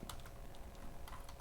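Keystrokes on a computer keyboard as text is typed into an image editor, a steady run of close, light clicks with no talking.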